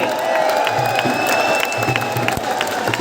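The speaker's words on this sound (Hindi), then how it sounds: "तालियों की आवाज कम नहीं होनी चाहिए।" A conclave audience applauds and cheers loudly, a dense continuous wash of clapping with whoops scattered through it, filling the whole stretch.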